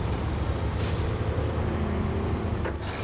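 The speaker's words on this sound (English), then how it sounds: "Pull the handbrake" Truck handbrake engaging in the SnowRunner video game: a short sharp air hiss bursts out over a loud, constant low engine rumble, followed later by a fainter second puff of air.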